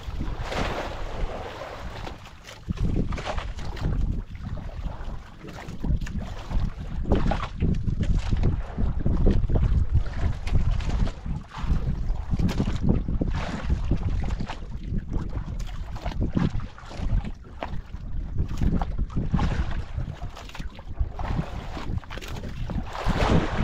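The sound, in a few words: boat passing by at sea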